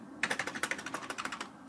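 Fingers type on a computer keyboard in a quick, steady run of light clicking keystrokes, close and quiet, alone without talk.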